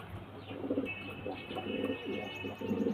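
A female pigeon coos in soft, repeated low bursts, close by, over a faint steady background hum.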